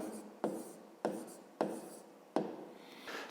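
A pen writes an answer on paper, four short scratchy strokes each starting with a sharp onset and tapering off, close and quiet.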